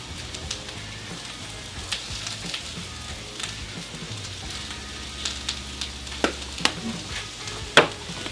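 Cheesesteak meat and vegetables frying on a Blackstone griddle, a continuous close sizzle with scattered sharp pops and spatula scrapes, no voices.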